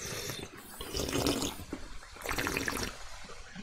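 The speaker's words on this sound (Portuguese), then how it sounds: "Enche o balde, aí tu bota pra encher o baldinho d'água." Water steadily pours from a well into a bucket in a video game, a continuous splashing, gurgling fill heard close and alone.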